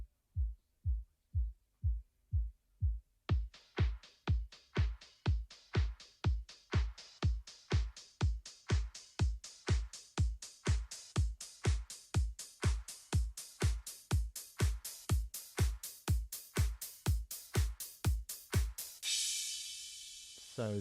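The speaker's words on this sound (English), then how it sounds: "all the drums recorded and then filtered, put through a filter process" Recorded drums put through a filter sweep for a track outro: a steady, evenly spaced kick-like pulse, first muffled and bass-heavy, then opening up bright and full as the filter rises, ending with a washy crash.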